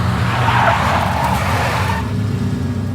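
A big black Mercedes in the Max Payne video game tears past with loud tire squeal and engine roar for about two seconds, then cuts to a quieter low hum.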